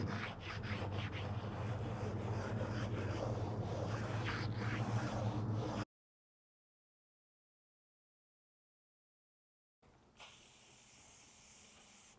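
A wet stone is worked over a part from a BMW M60B44 V8 engine, giving a steady close hiss and scrub that stops dead, then a quieter rubbing resumes after several seconds of silence.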